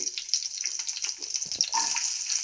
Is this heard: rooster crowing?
no